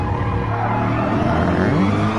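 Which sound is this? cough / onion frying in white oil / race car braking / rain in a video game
race car braking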